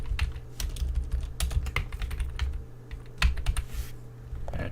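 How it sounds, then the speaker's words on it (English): Rapid, irregular keystrokes on a computer keyboard while entering a file-attribute command, close and steady with no talking over the clicks. "let's type"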